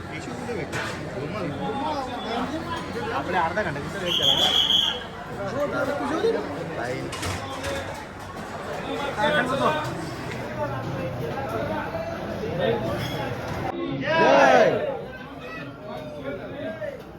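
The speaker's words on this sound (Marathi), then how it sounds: "बघू शकता लाईनीला गर्दी जेवणाच्या लाईनीला गर्दी" A busy crowd queues for meals at Akkalkot temple, with overlapping voices and chatter throughout, occasional clatter of plates, and a nearby voice talking over the hubbub.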